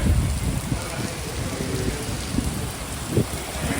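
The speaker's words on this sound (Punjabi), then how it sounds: "ਲੱਗ ਗਿਆ ਜੀ ਮੀਂਹ ਪੈਣ ਆਪਣੇ ਉਰੇ ਰੋਪੜ ਮੰਡੀ 'ਚ" Rain falls steadily at an outdoor tractor market in Ropar, Punjab, a constant dense hiss of drops hitting surfaces up close, with faint low rumbles underneath and no speech.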